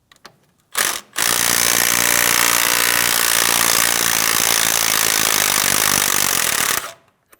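An 18mm impact tool or power wrench loosens a brake caliper slider bolt on a 2007-2014 GMC Sierra 2500 HD, one loud sustained rattling burst of about six seconds after a brief blip, close up with no talk.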